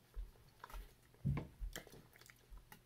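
Someone eats an apple raisin oatmeal muffin with apple chunks, giving soft close-up bites and chewing sounds in quiet surroundings.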